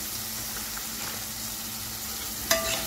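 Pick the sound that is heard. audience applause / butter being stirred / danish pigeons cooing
butter being stirred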